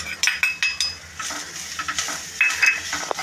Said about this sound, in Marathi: आता आपल्याला खोबरं लाल होईपर्यंत परतवायचं.